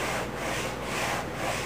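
Steady back-and-forth rubbing of a guitar fretboard being sanded to its radius on the flat top of a workbench, continuous and close with slow rhythmic swells.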